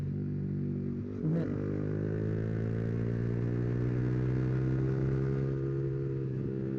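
A Yamaha R15 V3 motorcycle engine hums steadily, its pitch rising slowly as revs climb, with a brief clatter early on, heard close and moderately loud with no talking.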